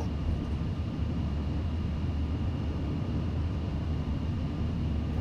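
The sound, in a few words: airplane taking off, liftoff on runway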